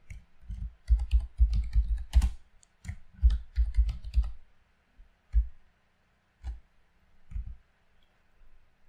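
Close, crisp keystrokes on a computer keyboard come in quick clattering bursts, then thin out into occasional single taps separated by pauses.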